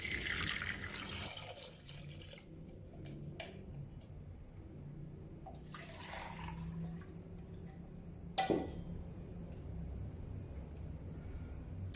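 Running water pours steadily from a tap into a pot for chicken ABC soup, a close, continuous splashing flow with a few brief clinks of cookware and no talking.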